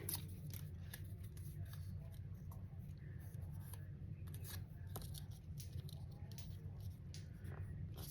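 Scissors snip through plain pink cardstock scraps and leftover paper strips, giving a rapid run of sharp, close snipping clicks over a steady low background hum.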